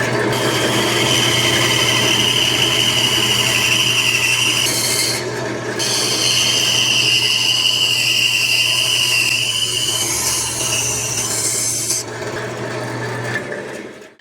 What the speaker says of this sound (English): Now we're gonna use the bandsaw to cut this middle part out